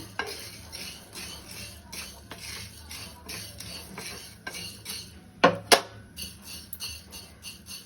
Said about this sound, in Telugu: 100 గ్రాములు ఉంటాయండి మిరియాలు. మంచిగా బోలుగా అయిందాక వేయించుకోవాలి.